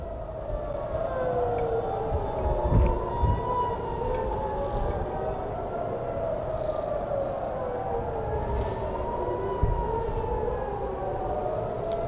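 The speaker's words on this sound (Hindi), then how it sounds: "ईरानी मिसाइल हमले के बाद इसराइल में सायरन" Civil defense air raid sirens wailing in Israel after an Iranian missile attack, several rising and falling tones overlapping steadily for the whole stretch over a constant outdoor rumble, with no talk.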